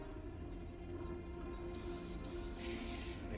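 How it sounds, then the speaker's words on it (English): Empty spray bottle misting plants in a point-and-click video game, a couple of soft hissing spray bursts over a steady low background hum, with no talking. "If I spray those plants with that"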